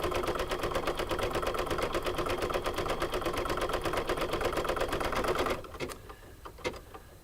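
An embroidery machine stitches a sewing-themed word design for a chicken coaster, a loud, steady rapid needle chatter running for about five and a half seconds before stopping, followed by a few faint clicks and handling sounds.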